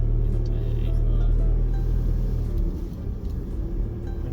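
Steady low rumble of cars and road traffic passing on a suburban Australian road between Maddington and Kelmscott, heard from inside a moving vehicle, continuous and fairly loud with no talk.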